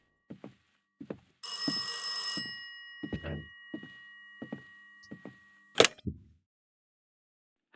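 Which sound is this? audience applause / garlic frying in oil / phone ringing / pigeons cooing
phone ringing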